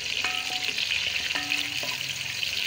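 Potato and eggplant frying in a pan for a village-style curry, a steady close crackling sizzle that runs alone throughout with a few stirring scrapes over it.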